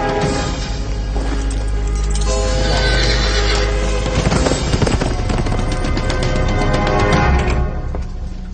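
Horse neighing and whinnying with clip-clop hooves, loud and steady throughout amid a busy, dense background, with no talk.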